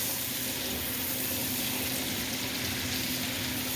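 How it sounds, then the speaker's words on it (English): Beef sizzles steadily in melted butter and bacon grease with garlic for a stew, a dense, continuous frying hiss heard close up with no break and no voices. "Melt the butter in there, and then we're gonna put the beef inside"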